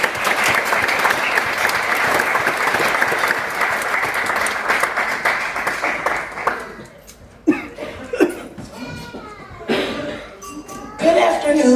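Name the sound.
audience applause welcoming a speaker to the podium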